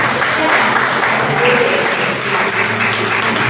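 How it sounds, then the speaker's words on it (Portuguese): Congregation applause in a church service, a dense, steady wash of clapping that holds loud and continuous throughout with no talking over it. "Você pode aplaudir o nome de Jesus."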